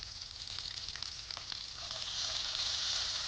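Chili, onion and garlic frying in a pan with a pinch of salt, in a home cooking show: a steady, fairly quiet oily sizzle hisses throughout, with faint pops, growing a little stronger toward the end.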